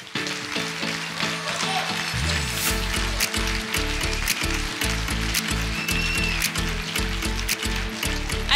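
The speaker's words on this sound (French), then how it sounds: "Une petite promo, mais on les applaudit bien fort." An audience at a master's degree graduation ceremony keeps up loud, dense applause for a small graduating class. The applause is steady and continuous, with music faintly underneath.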